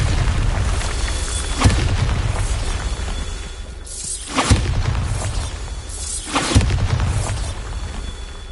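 The Bombarda spell blasting rocks in Hogwarts Legacy: three loud booming blasts with shattering debris and whooshes, spaced a few seconds apart over a rumbling background.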